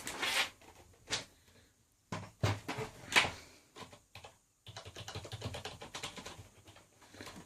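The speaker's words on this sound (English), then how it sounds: "So this is the keyboard." Typing on a Roccat Isku gaming keyboard with medium-depth, non-mechanical keys: close, quiet bursts of soft key clicks in irregular runs, separated by brief pauses.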